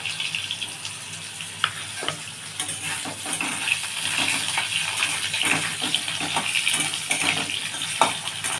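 Potatoes frying with black cumin seeds in a pan, a loud continuous sizzle and crackle throughout, dotted with small pops and light scraping taps of a spoon.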